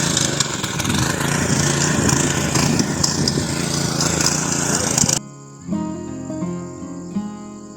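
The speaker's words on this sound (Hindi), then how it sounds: "यहाँ भी लोग अब धीरे धीरे मिनी ट्रैक्टर का यूज़ करने लगे खेत खोदने के लिए।" A mini tractor tills a field in a hilly village, its engine buzzing steadily and fairly loud with insect-like drone for about five seconds before cutting off into quieter surroundings.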